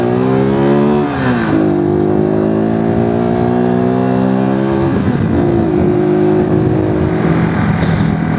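A Honda CB Twin motorcycle engine revs hard while riding, a loud, continuous drone that dips briefly twice and climbs back up in pitch, filling the whole stretch.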